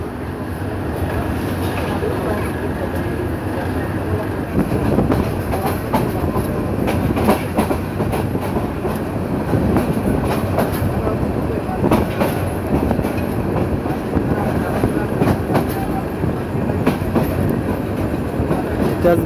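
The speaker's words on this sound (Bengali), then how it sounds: "তেজগাঁও রেল স্টেশন ক্রস করে যাচ্ছে ট্রেনটি।" The Mohanagar Express passes Tejgaon railway station in Dhaka, heard as a loud close rumble with rhythmic clickety-clack of wheels over rail joints and faint squeals, sustained throughout.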